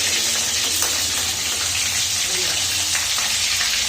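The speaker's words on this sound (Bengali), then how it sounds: "এগুলো লাল লাল করে ভেজে নিতে হবে" Lote fish chops fry in hot oil with a loud, even sizzle that carries on without a break, close up, with a faint low murmur beneath.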